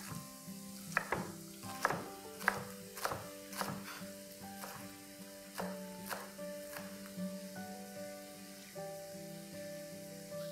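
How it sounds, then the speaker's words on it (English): Knife chopping spring onions on a board for burnt garlic chicken fried rice, a run of sharp rhythmic cuts near and clear at first, then thinning to softer, sparser taps over a low tonal background hum. "I'm also going to start cutting the spring onions"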